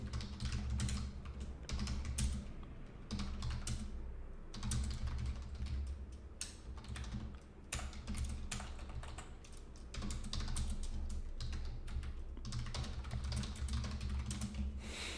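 Steady, rapid keystrokes on a computer keyboard as Python code is written, a close, continuous clatter with brief pauses over a low background hum.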